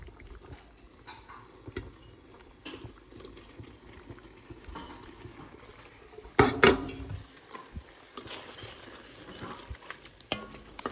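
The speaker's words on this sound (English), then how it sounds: "Going to go in with our pasta now." Pasta tossed into sauce in a pan, heard as a low steady sizzle and simmer with scattered utensil scrapes, then a loud clattering burst midway, followed by more stirring and clinks, with no talking.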